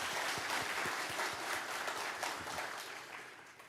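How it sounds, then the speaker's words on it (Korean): A church congregation at an autumn revival early-morning service claps together, a moderate, somewhat distant burst of applause with distinct individual claps that gradually fades. "우리 하나님께 영광 돌리는 의미에서 박수 한번 하겠습니다."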